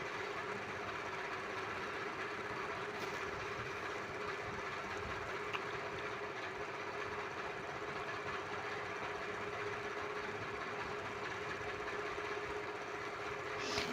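A sewing machine runs steadily throughout, stitching the back and front pieces of a blouse together, with a constant mechanical hum and fairly loud, even whir and no talking.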